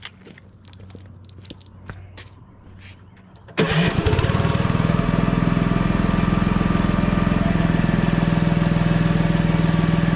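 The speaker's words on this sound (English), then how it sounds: "Let your pump come on real quick so it rinses everything out." A pressure washer pump for a roof wash rig kicks on abruptly partway through and then runs loud and steady, its constant motor drone continuing to the end after a quieter stretch with light clicks and handling.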